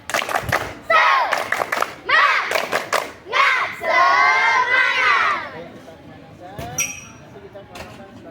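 Schoolchildren repeat the 'tepuk semangat' spirit clap chant during a physical education lesson, louder now, with crisp rhythmic group claps between shouted chant phrases, then quieter scattered voices and a few stray claps at the end.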